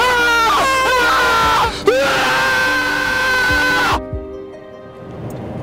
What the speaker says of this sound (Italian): Il tuo urlo era vero, sincero.